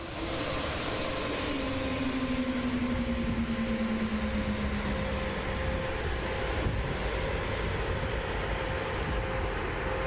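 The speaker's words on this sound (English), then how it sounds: "And we're gonna cut the engines." Boeing 787-9 engines spooling down in Microsoft Flight Simulator, a steady loud turbine roar with a falling whine that sinks in pitch over several seconds while broad hum and airflow noise continue.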